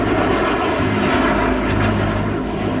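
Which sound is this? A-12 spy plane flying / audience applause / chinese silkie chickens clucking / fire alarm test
A-12 spy plane flying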